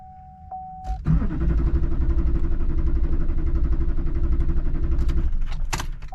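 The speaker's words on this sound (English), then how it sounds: "we got a glow plug light, and we're turning over, but we ain't got no power or fuel" A 2005 Duramax LLY diesel engine cranks steadily for about four seconds without catching, its loud, even churning rhythm close by, then cutting off abruptly, with a brief click before and a clunk after.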